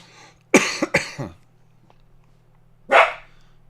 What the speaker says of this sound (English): what are we barking at, guy?